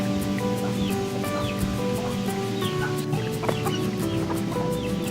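Chickens cluck steadily and close by in a shaded chicken coop area, with repeated short calls layered over soft background rustling and a constant outdoor hiss.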